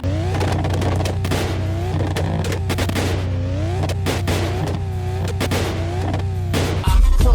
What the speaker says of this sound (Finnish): ajat sivuluisussa rataa autolla, jonka äänitehosteina on käytetty Lähi-idästä nauhoitettuja pommitusten ääniä